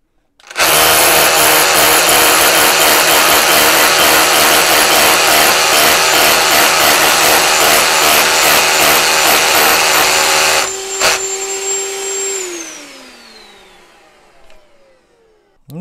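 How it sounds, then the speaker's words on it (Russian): A Makita drill boring upward into a surface with a Makita DX01 dust extraction attachment, a loud steady whirring grind that stops abruptly and is followed by a high tone falling away as the motor spins down. "Сверлю вверх ногами"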